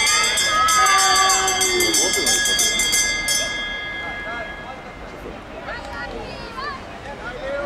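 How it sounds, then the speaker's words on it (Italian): A bell rings out rapid, repeated metallic strokes to signal three laps to go in a 5000 m points final speed skating race, loud at first and then fading as crowd noise and an announcer's voice carry on. "Campana dei meno 3."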